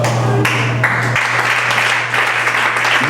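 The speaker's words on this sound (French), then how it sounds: "Il mérite les acclamations" An audience at a conference in Kinshasa breaks into sustained applause, a dense and even wash of clapping that holds steady throughout.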